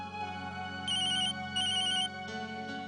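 A telephone rings indoors with a repeating electronic ringtone, its brighter ringing bursts rising and falling over a steady tonal backing, loud and close, with no voices.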